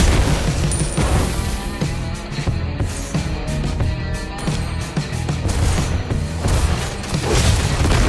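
A turret is destroyed in the Mobile Legends video game, with dense booming impacts and explosive crashes layered over energetic game music throughout.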